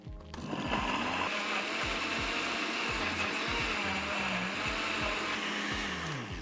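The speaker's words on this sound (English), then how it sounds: "Get all the ingredients in my blender, and then we're going to give it a whirl." A blender whirls raw vegetables into gazpacho, a loud steady motor whine holding for several seconds with a low chopping pulse beneath, close up and without talk.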